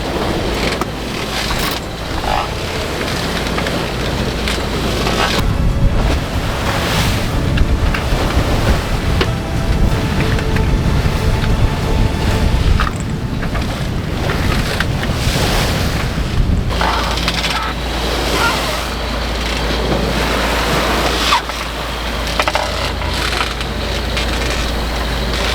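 Open-sea waves wash and surge continuously around a sailboat under way, with a loud, steady roar of water and wind that swells and eases in long, uneven pulses.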